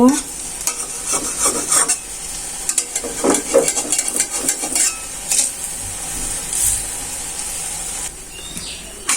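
Lentil fritters sizzle and crackle steadily in hot oil while a spatula stirs and turns them, with scraping and clinking against the pan and bursts of spitting oil throughout.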